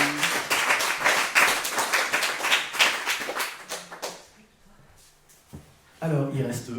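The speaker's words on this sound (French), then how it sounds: "Vous pouvez l'applaudir." Audience at a talk applauding a speaker named Joséphine, a burst of dense clapping for about four seconds that thins out to a few scattered claps, with a voice coming back in at the end.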